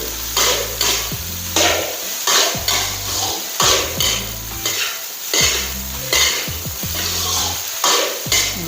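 Scallions and Chinese sausage stir-fried in a pan, with loud rhythmic scraping and tossing strokes of a spatula against metal every second or so over a continuous close sizzle.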